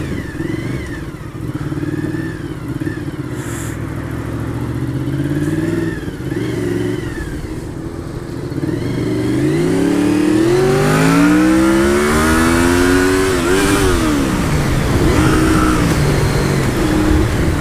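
Motorcycle accelerating through gears, engine note climbing, dropping at each shift and rising again, loud and close with wind rush, growing stronger in the second half and heard without voices.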